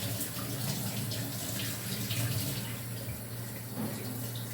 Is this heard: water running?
yes